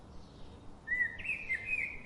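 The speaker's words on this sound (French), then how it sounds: "Tu entends les oiseaux chanter." Birds chirp and sing in short bright phrases starting about a second in, fairly close and clear over a quiet outdoor background with no talking.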